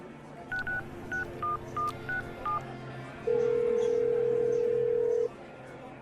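Dialing a cell phone number to make a call: eight short keypad tones in a quick irregular run, followed by a steady two-second ringback or dial tone, clear and close with no talk.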